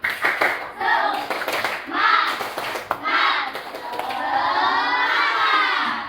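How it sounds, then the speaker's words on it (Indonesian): A classroom of pupils performs the 'tepuk semangat' spirit clap chant, bursts of rhythmic group clapping alternating with loud shouted chanting, ending in a long excited cheer. "Tepuk semangat."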